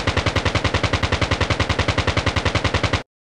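A homemade machine gun fires one continuous, loud, close burst of about three seconds, shots hammering in an even rapid rhythm before stopping abruptly.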